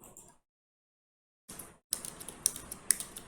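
Computer keyboard typing while coding simple HTML, with a short burst of keystrokes, a pause of silence, then a quick run of crisp, close clicks.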